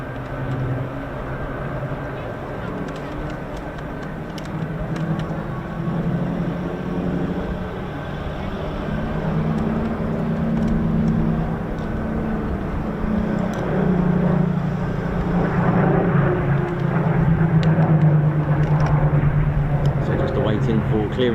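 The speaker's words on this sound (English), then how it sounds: "I can hear a heavy. C-17 or something heavy." Heavy military aircraft at the Royal International Air Tattoo 2025 air show droning overhead as a long, steady low rumble that slowly builds and shifts in pitch, with people talking throughout.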